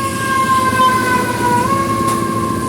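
A fire truck siren wails steadily through heavy rain in a Philippine street, its tone rising and dipping over a dense wash of rainfall.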